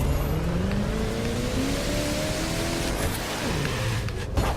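A car in The Crew 2 drives along during a test drive, its engine humming steadily and climbing gently in pitch, with rumbling road noise throughout and a brief engine dip near the end.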